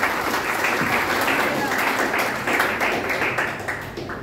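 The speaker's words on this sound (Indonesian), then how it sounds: "Beri tepuk tangan bagi Tuhan." Church congregation applauding at a worship service, dense steady clapping that fades slightly toward the end, with some voices mixed in.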